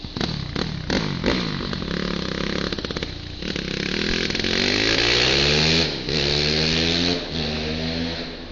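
A motorcycle with a 376 primary revs hard, its engine note climbing and falling in steady pulses as the clutch is worked, loud and close throughout with a few sharp throttle blips near the start.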